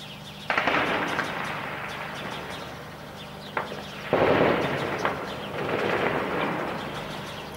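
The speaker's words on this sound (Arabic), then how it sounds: "قصف عشوائي على المنازل" Shelling strikes houses along the old Aleppo road in Hama, Syria, in 2013, heard as two heavy booms a few seconds apart, each followed by a lingering rumble over steady background noise.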